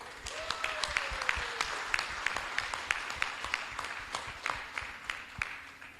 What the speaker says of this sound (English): So big round of applause for all you guys.